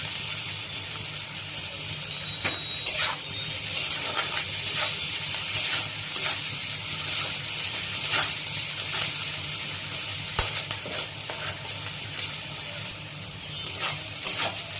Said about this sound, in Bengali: পেঁয়াজটা ব্রাউন করে ভাজা হয়ে গেছে